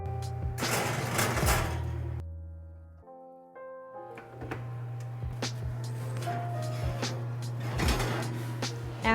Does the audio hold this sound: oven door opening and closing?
yes